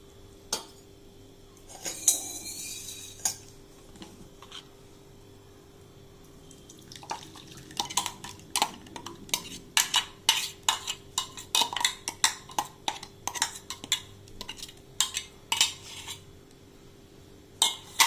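A spoon clinks and scrapes against a metal pot of drumstick soup in a quick, irregular rhythm, close and fairly loud, after a few quiet seconds.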